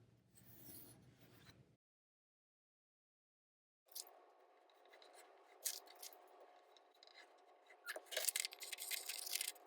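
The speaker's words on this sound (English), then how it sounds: "you're going to cut out or trace and then cut 4 squares from 4 of the pages" Scissors snip and rustle through old book pages while cutting out squares, soft scraping and crisp cuts close by, after a brief stretch of silence, without talk.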